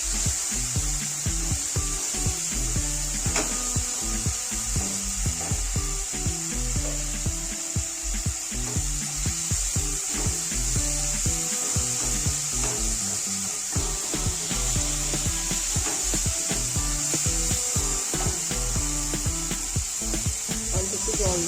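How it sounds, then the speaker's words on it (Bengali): Chopped tomatoes and spices sizzle steadily in a pan while frying for a papaya bhujia, a continuous close crackle with occasional stirring and scraping throughout. "মশলাটাকে ভালোভাবে আমি কষে নেব।"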